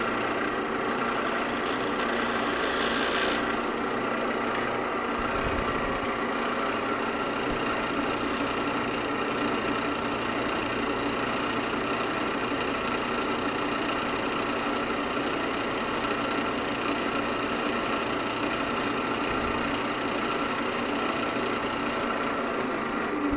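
A wood lathe spins a turned wooden box during wax finishing, giving a steady, continuous motor hum and faint rumble that stays even throughout, with no talking.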